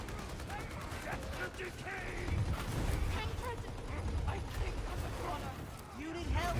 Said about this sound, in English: So now all you're going to hear is explosions.